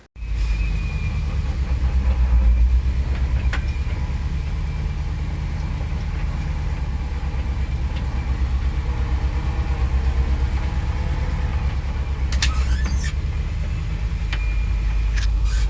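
An old fuel truck's engine runs after a cold-start fix, a loud steady idle rumble close by throughout, with faint clinks and squeaks over it.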